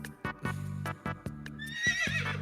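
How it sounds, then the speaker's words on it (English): A horse neighs in a loud, close whinny with several rising and falling pulses, followed by a second brighter, higher-pitched neigh near the end. "I need a horse neigh. I need a sound effect for my board."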